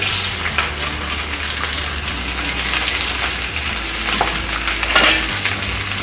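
Chopped okra pieces fry in oil for a masala bendi dish, giving a steady, loud, dense sizzle that runs the whole time, with faint stirring scrapes and a brief swell near the end.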